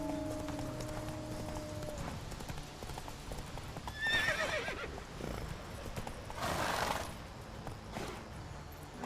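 Geralt's horse Roach in The Witcher 3 clip-clops steadily along, hooves thudding at a moderate pace, with a few whinnies breaking through, mid-distance and fairly quiet.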